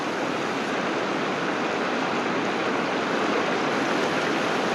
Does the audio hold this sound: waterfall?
yes